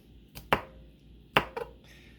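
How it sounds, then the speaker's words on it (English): A knife strikes a cutting board while mincing garlic cloves, a handful of sharp, close taps in two small clusters with quiet gaps between them, no talking. "we're gonna start mincing these little garlic cloves"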